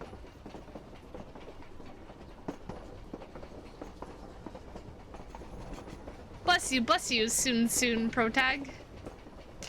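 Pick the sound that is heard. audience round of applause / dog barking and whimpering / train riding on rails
train riding on rails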